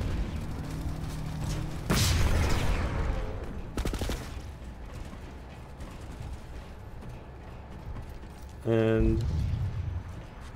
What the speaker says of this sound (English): Then throw a grenade.